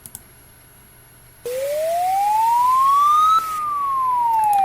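A Polish emergency alert siren begins abruptly with a single electronic tone that sweeps steadily upward, then slowly falls, loud and sustained, with no speech over it.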